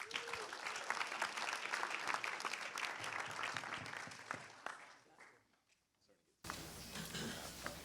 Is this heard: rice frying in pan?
no